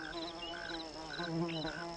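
Solitary bees in a garden drone with a steady, close, continuous buzz that wavers slightly in pitch throughout.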